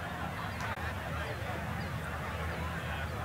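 Ducks quack and honk on a water hazard in the golf video game EA Sports PGA Tour at TPC Scottsdale's Stadium Course, with steady ambient course noise and a voice talking over it.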